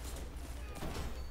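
Gunfire from Destiny, with a sniper rifle shot, rings out amid steady low game noise during a hectic multiplayer fight, a sharp crack standing out near the end of a brief busy stretch.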